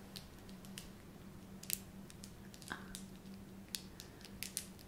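Soft crackly plastic clicks and squishy snaps from a Tangle fidget toy being twisted repeat irregularly over a faint background hum, quiet and close.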